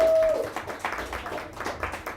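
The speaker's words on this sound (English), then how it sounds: "Give yourselves a round of applause" Sparse, scattered clapping from a small audience at a stand-up comedy night, a handful of hands tapping in uneven bursts, fairly close and modest in volume.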